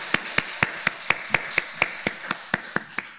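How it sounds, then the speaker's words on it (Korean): A church congregation claps to honour members with February birthdays, the claps landing in a crisp, evenly spaced rhythm of about thirteen beats, close and distinct, with no talking over them. "우리 2월 생일을 맞이한 우리 성도들과 한번 우리 박수로 축하해 주시면 고맙겠습니다."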